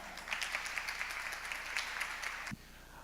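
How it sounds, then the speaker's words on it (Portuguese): An audience at a music lecture during the Festejos Farroupilhas in Porto Alegre gives warm, dense applause that fills the room and then stops abruptly, leaving quiet room tone. "Recebendo com uma calorosa salva de palmas, William Varela."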